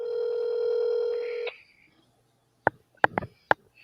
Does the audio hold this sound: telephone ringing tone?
yes